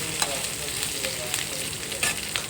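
Cashew nuts frying in hot oil for raw mango pulihora, a steady close crackling sizzle with a few sharper pops and stirring clicks throughout.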